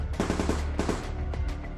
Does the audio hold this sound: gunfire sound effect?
yes